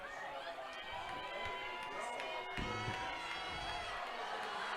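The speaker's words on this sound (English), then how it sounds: "Crowd getting loud." A football stadium crowd at a Nebraska high school varsity game swells into a loud, sustained roar with cheering and shouts, while an announcer talks over it.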